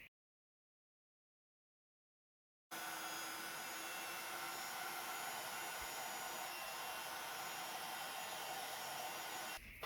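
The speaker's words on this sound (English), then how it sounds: "I'm going to heat emboss that in clear embossing powder" Heat tool blowing hot air onto clear embossing powder on a stamped card: a steady, loud fan-like whoosh and hum starts abruptly after a few seconds of silence and runs continuously to the end, close up with no talking.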